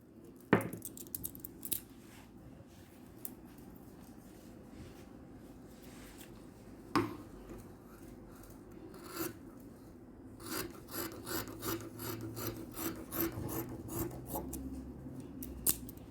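Scissors snip through net and lace fabric while drafting a gown, with a few sharp close cuts early on, then a faster run of rhythmic snipping toward the end, and no talking.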